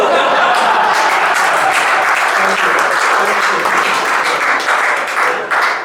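Sustained applause from a comedy club audience at a stand-up show, loud and steady throughout with scattered chuckles mixed in, tapering slightly at the end.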